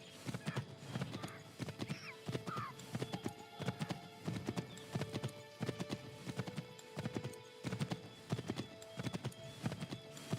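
Horse hooves pound in a quick galloping rhythm while riding in the game Assassin's Creed III, steady and continuous with occasional snorts, loud and close under a game soundtrack.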